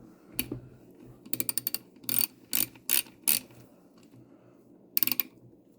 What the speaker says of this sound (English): gonna need the ratchet, tighten that one down.